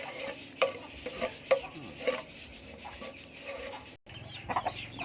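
Chickens cluck close by in short, irregular bursts around a home kitchen, mixed with clinking and stirring noises at low volume.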